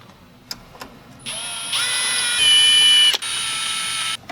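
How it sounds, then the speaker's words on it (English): A power drill with a 7mm socket whirs loudly up to speed, changes pitch as it removes screws from a car dash head unit, pauses with a click, then runs again, preceded by a few light taps. "grab a drill with a 7mm socket"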